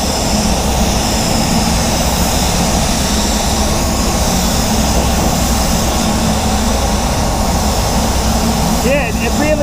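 A spray gun at about 25 psi lays Supernova Black Mamba LS-400 1.3 basecoat onto Ford Focus doors, producing a loud, steady airy hiss that runs unbroken throughout.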